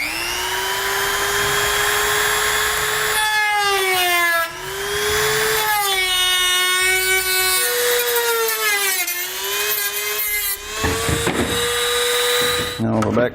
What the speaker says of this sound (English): I'm going to take a Dremel tool with a plastic cutting blade and cut that out.